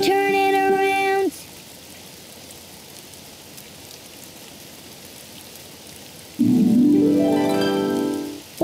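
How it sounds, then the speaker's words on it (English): Rain falls outside in a soft, continuous hiss, framed by short musical tones at the start and end. "It's raining outside."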